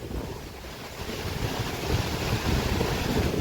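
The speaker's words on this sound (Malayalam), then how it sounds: "അടിപൊളി കാറ്റ്" A strong wind roars continuously around a truck stop, a dense, close rush of buffeting noise against the microphone that swells slightly louder toward the end, with no voices.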